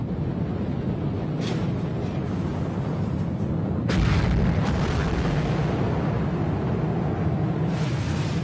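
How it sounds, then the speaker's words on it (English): Hydrogen bomb explosion: a sustained deep roaring rumble that swells with a sharp burst partway through, loud and continuous with no speech. "This is the power of a hydrogen bomb."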